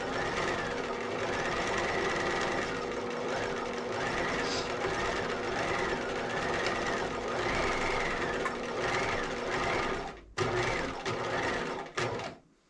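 A sewing machine runs a row of straight basting stitches through fabric, a loud, steady, close whirring chatter that continues for about ten seconds before a brief pause and a short final burst.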